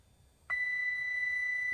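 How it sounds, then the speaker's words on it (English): Avionics in a Prepar3D flight simulator aircraft switch on with a steady, high electronic beep that starts abruptly and holds unbroken through the end, clear above a faint low hum. "behind here is the avionics, boom, beep."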